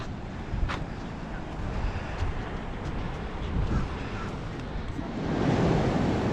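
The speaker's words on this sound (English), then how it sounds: "There's the Atlantic Ocean." Atlantic Ocean waves wash onto a beach near Savannah, Georgia, at high tide, a continuous loud roar of surf with wind noise that swells a little toward the end, with no voices.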